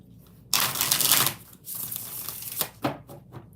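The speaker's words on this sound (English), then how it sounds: "Two more shuffles." A deck of oracle cards is shuffled up close in short bursts of riffling and flicking, separated by brief pauses, with no voices.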